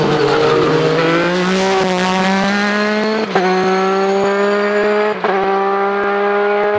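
A Pilbeam MP88 race car charges up the Shelsley Walsh hillclimb, its skid blocks sparking through the kink. The loud, close engine note climbs steadily in pitch, with quick gear-change breaks about two seconds apart.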